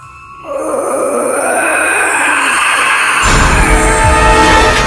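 A ghostly growl coming through studio headphones: a low, moaning groan that swells and holds over a steady dark hum, turning harsher and louder partway through, with no talking.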